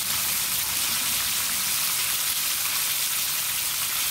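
Chicken wings stuffed with collard greens and rice fry in hot oil, giving a steady, dense crackling sizzle that holds even and close throughout, with no voices.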